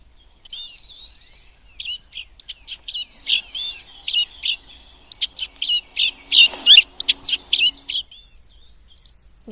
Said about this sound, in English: so we got the blue-gray gnatcatcher, and let's play his sound